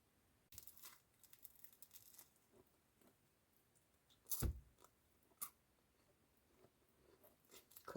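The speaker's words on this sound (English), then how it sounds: "The crust is so nice and crunchy. You hear it?" Soft crackly crunches and crinkles of chewing poppy seed bread crust, close and fairly quiet, with a couple of sharper bites standing out; no voices.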